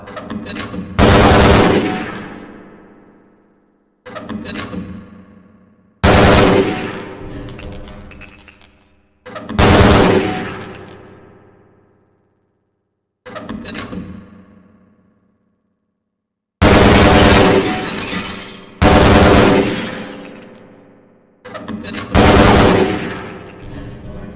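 Gunfire and lobbed grenade blasts ring out on the Black Mesa training target range in Half-Life: Blue Shift, seven sharp loud bursts each trailing off into a decaying rumble, separated by short silences.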